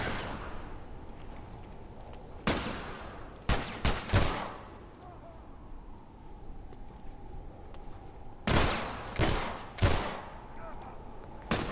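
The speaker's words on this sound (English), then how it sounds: "I have to be careful thinking about where all these dudes are shooting from." Gunfire in The Last of Us Left Behind: loud, separate shots in two clusters, a few quick cracks then another run of blasts, set against a quiet ambient backdrop.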